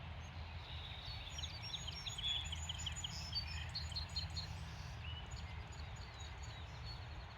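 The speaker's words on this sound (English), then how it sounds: "You can hear the birds." Birds calling at the Monocacy Civil War battlefield, scattered high chirps and short trills in the first five seconds, faint and somewhat distant over a steady outdoor rumble of far-off road traffic.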